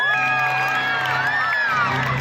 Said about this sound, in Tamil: அவங்களுக்காக ஒரு பெரிய கைத்தட்டல ஒரு ஓ போட்டுலாமா?